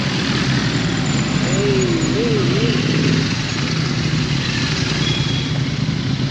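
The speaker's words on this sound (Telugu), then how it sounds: "అన్నీ సూపర్ బైక్స్ వస్తున్నాయి. ఒక S1000 RR ఉంది స్టార్టింగ్." Superbikes, including a BMW S1000 RR, arrive at a riders' meet-up with a loud, continuous engine rumble and drone. Wind noise and an indistinct voice sit in the mix.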